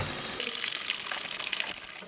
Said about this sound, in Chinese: 趁这个时间把大蒜清洗干净